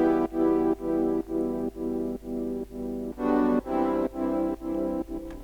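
Layered synth chords from the Diva plugin, played together as rhythmic pulsing stabs that repeat steadily, full and fairly loud, with no voices.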